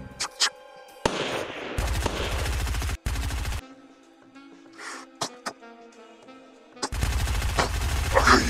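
Video game gunfire crackles in rapid automatic bursts with a couple of single shots between them, loud and close, separated by quieter gaps.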